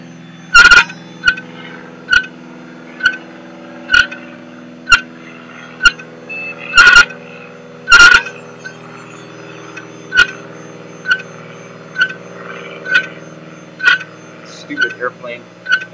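A Compaq Presario S4010OM desktop with a broken Western Digital hard drive powers on, its steady fan hum carrying sharp, evenly spaced ticks about once a second.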